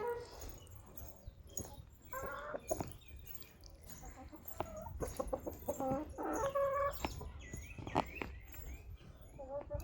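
Hens cluck and squawk repeatedly, fairly near, one sitting on eggs, amid outdoor background noise, with occasional other animal sounds.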